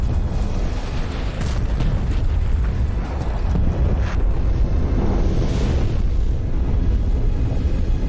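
Film explosion blowing up a building in a zombie-overrun city, a dense, loud, sustained rumbling roar with crackling debris that fills the whole stretch and never lets up.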